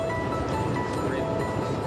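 A passenger train rolls through the Adirondacks with a steady rumbling clatter of wheels on rails heard from inside the car, continuous and moderately loud with no talk.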